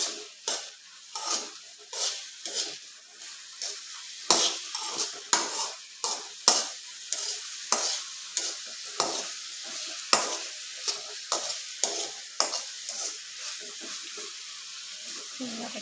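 Tamarind chutney mixture stirred in a pan, rhythmic scraping strokes about once per second with light sizzle underneath, close and fairly loud, steady through the whole stretch.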